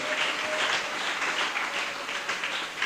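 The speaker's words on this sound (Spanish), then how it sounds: "Denle un aplauso al Señor en esta mañana." A church congregation applauds during a Spanish-language service. Dense, even clapping continues for about three seconds with no talk over it.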